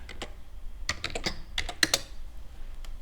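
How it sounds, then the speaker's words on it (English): Fast, uneven typing on a computer keyboard, a cluster of sharp close key clicks in bursts with short pauses between them and no talking. "I'm going to thump on the keyboard and put LinkedIn."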